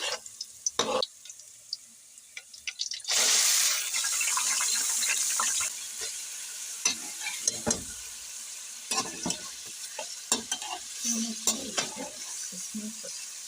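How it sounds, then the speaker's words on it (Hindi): Fresh garlic sizzles and is stirred in a spoonful of hot oil for a chicken dish. A loud burst of frying hiss is followed by ongoing sizzle and scattered spoon scrapes and clinks. "इसमें अब मैं डालूँगी फ्रेश हुई लहसुन 1 चम्मच।"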